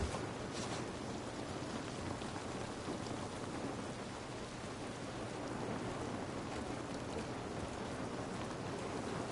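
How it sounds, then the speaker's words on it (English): Steady, dense rain pours down in The Last of Us video game, a continuous broadband hiss with low rumbling underneath and a few brief brighter patters, constant and fairly loud with no talking. "This rain ain't gonna do us any good."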